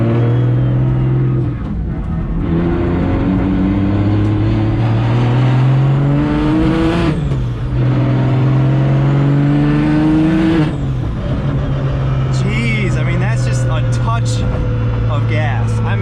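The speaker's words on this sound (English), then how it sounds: "And it's definitely loud. My exhaust doesn't help. I mean, it's a straight pipe with one resonator, so it's not gonna be quiet." A 750hp BMW 135i with a straight-pipe exhaust and one resonator drones loudly and steadily while driving, its engine note rising and falling with throttle through two clear build-ups, heard close from inside the car.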